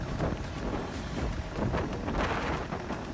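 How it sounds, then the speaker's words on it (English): Blustery wind gusting to 30 in a flight simulator at Atlanta, buffeting in uneven surges, a rough low roar rising and falling over a few seconds, with no speech. "very windy, gusting 30 here in Atlanta today"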